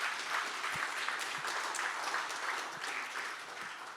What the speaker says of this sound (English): just a round of applause for Fal in general for helping do this